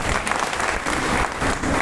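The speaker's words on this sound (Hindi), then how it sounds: "एक बार चेहरा पर मुस्कुराहट लाते हुए ताली बजाइए सर" An audience claps together for a couple of seconds, a dense, even patter of hands at moderate volume with no talk over it.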